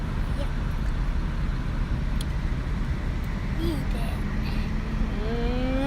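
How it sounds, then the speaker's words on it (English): A car drives along a road, heard from inside the cabin as a steady low engine and tyre rumble, with faint voices of a parent and children and a few brief squeaks. "I'm driving home with the kids"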